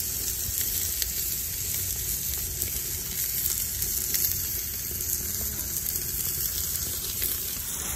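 Steady hiss and bubbling of pasta water heating toward a boil in a pot, continuous and close with a faint high whine throughout; no voices.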